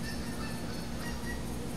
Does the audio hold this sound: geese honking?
yes